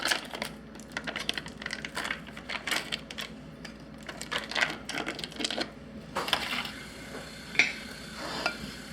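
A wooden spoon works cubed pieces into a thick mixture for a three-ingredient Thanksgiving recipe, giving a steady run of irregular scraping, knocking and clattering strokes against the bowl, close up, with no talking.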